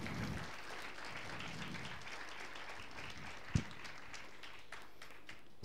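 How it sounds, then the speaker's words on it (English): A sustained round of audience applause at a live talk event, dense and even clapping from a crowd with one sharp louder clap standing out partway through, no voices over it. "give them a big round of applause"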